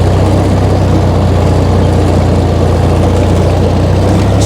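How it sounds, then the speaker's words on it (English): A tractor mows grass with its engine straining: a loud, close, continuous low drone that holds steady throughout with no voices over it. "You'll hear the tractor really start to struggle on this end bit."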